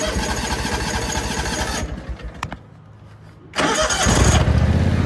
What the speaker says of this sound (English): maybe I'm giving it a few minutes right now, see if I could start it up